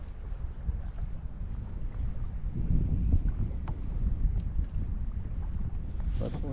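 Wind rising while bass fishing from a kayak on the water gives a soft, continuous low rush that swells slightly midway and stays fairly quiet throughout.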